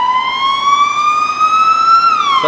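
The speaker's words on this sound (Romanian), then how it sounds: "Numai o secundă să treacă salvarea." An ambulance siren sounds loud and close in Suceava, Romania, with a steady rising wail that drops in pitch as it passes.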